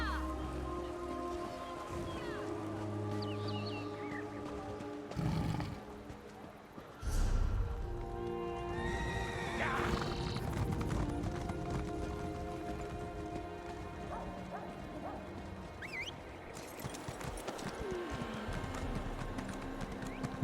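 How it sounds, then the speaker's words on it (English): Horse in Elder Scrolls Online, clip-clopping hooves in steady rhythm with a neigh, set against rain and ambient game sounds, moderately quiet and without speech. "These parts I will go with a horse rather than my normal lion."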